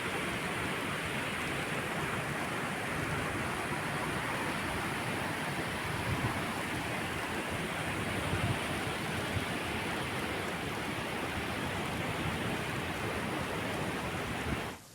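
The flooded Ghod river gushes in a steady, roaring broadband rush, like heavy rain or surf, continuous and unchanging throughout with no voices.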